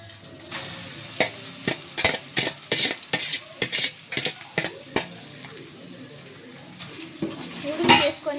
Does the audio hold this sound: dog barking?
no